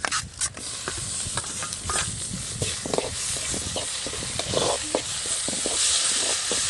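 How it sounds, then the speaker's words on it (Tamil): Tomatoes and onions sautéing in a pan for a village-style fish curry, a dense frying hiss with rapid, irregular clicks and scrapes of a spatula stirring, close and steady throughout. "இப்போ நம்ம தக்காளி சேர்த்துக்கலாம்."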